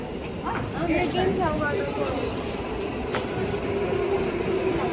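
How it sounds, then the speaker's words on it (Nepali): A train rumbles and squeals as it pulls into a Tokyo station, with a steady low drone and high-pitched screeching brakes, while people chatter nearby. "ट्रेन चाहिँ आइसक्यो, हामी यही ट्रेनमा चढेर जाने गाइस।"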